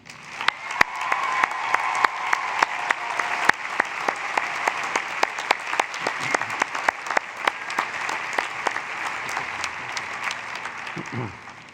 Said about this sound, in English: please join me in a warm round of applause for Bridgewater's finest